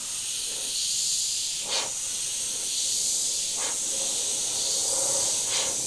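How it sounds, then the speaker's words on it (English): A budget airbrush under $120 sprays paint in a steady, broad hiss that runs continuously, with a few slight surges as the spray pulses, and no talking. "I'm just gonna spray some broad spray just to get the feel for it, how it atomizes."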